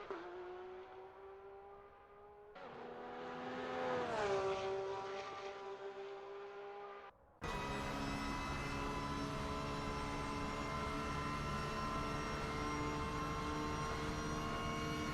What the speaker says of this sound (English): We hear the flat six screaming its head off, going into the chase.